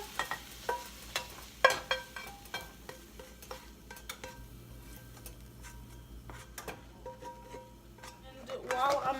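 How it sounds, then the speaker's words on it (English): Egg whites scrambled in a frying pan: a spatula scrapes and taps against the pan in irregular strokes over a faint sizzle, close and fairly quiet, with clinking near the end. "I just start to move it around the pan and scramble it."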